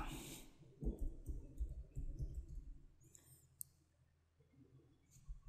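Quiet clicks of typing on a computer keyboard at a desk, a few scattered taps and short bursts, faint and close, with some low background noise.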